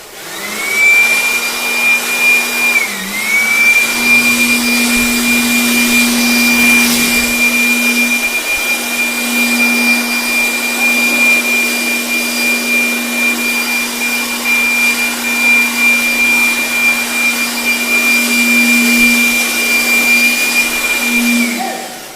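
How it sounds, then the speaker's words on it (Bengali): A dust-cleaning vacuum cleaner runs continuously, a loud, steady motor whine with a constant high tone and a brief dip near the start, with no talking. "মেশিনটা ধুলো সাফ করা মেশিন। কত সুন্দরভাবে ধুলো সাফ হচ্ছে দেখা পাচ্ছ।"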